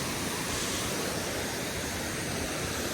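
A Nepali hill river flows past a bridge in a steady, broadband rush, constant and fairly faint, with no voices or other sounds over the water.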